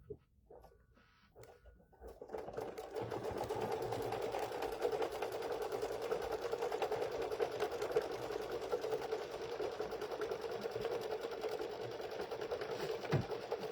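A sewing machine hums in a fast, steady buzz while satin-stitching a frame on a snowman trivet, starting after a couple of seconds of quiet handling and running continuously at a moderate level.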